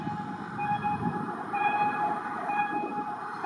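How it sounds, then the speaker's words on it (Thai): A train rumbles steadily nearby with a continuous low roar and faint tonal whine, no voices present, as a diesel locomotive hauling an ordinary passenger train approaches the Si Ayutthaya Road level crossing in Bangkok. "ขบวนรถไฟที่กำลังมา"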